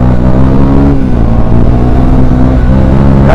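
A KTM Duke motorcycle engine runs loud and close, its steady, throaty drone holding through the clip with slight swells in revving.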